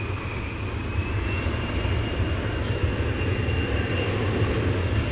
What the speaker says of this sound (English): Air Canada will be making a left turn here to go to its cargo facility